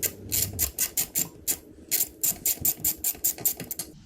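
A ratchet wrench clicks in quick regular bursts, close and crisp, as a hex head bolt is backed out of the rear axle of a Yamaha Vmax motorcycle.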